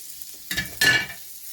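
Butter melting and sizzling in a frying pan on a lowered hob before an omelette goes in, two short close bursts of crackling sizzle.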